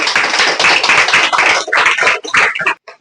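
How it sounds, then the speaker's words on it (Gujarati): An audience at a school Teachers' Day celebration claps together in a dense burst of applause that holds for a couple of seconds, then thins out into a few scattered claps. "તેની માટે આપણે એક વખત તાળીઓ તો પાડીશું જ."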